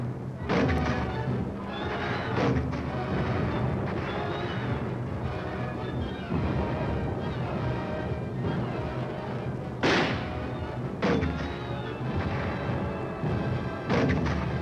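Artillery fire in 1951 Korean War combat, heavy booming blasts recurring over a continuous dense rumble of battlefield noise, with sharper reports standing out near the middle and end.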